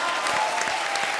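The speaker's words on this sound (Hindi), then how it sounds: "जोरदार तालियां।" Dense applause from a comedy show's studio audience, steady and fairly loud, filling the whole moment with sustained clapping and no pauses.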